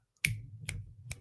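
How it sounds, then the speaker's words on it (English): Three crisp finger snaps ring out alone in a quiet room, close and sharp, each followed by a brief low hum. "I can't even snap my fingers"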